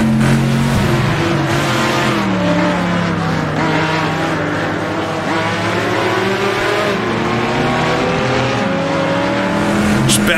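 A Chevrolet Stingray Corvette race car in a 1960s GT racing game roars steadily under load, its engine note climbing and holding at high revs for the whole stretch, loud and close with other cars faintly audible.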